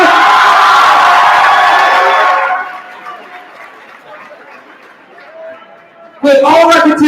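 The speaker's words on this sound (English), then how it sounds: "come on, another big round of applause" Loud cheering and whooping from a middle school crowd for a dance-off champion, fading to scattered chatter before erupting again at full volume.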